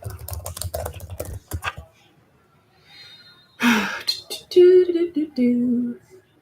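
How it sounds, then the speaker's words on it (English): A burst of rapid key clatter on a computer keyboard comes first, then a pause. A sharp breath and some vocal sounds follow, close to the mic. "let me type black cherries"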